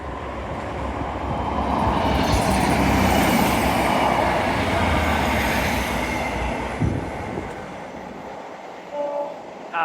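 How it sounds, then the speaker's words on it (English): A passing train rumbles past a wall walk, a loud sustained roar of wheels and carriages building over the first few seconds and fading out toward the end, with a brief higher tone near the close. "Hello train."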